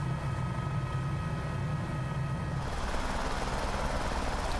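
Continuous engine whine and rotor drone of a Cowan Sim H125 helicopter in Microsoft Flight Simulator, with the tone shifting partway through as the sound grows brighter and noisier.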